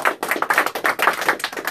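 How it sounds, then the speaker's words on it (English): Choir members clapping for themselves after a Christmas performance, a quick, fairly close burst of hand claps with an uneven rapid rhythm and almost no voices. "Give yourselves a round of applause,"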